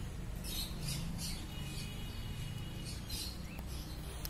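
Caged budgerigars at a bird market give faint, repeated chirps and squawks that rise in quick bursts over a constant low background murmur.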